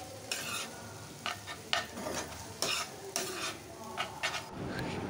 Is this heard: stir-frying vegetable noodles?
yes